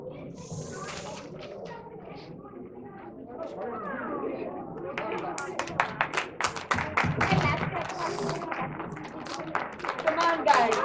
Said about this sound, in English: we can give them a really big applause